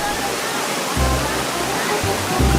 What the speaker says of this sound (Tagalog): Ang Pulang Bato Falls.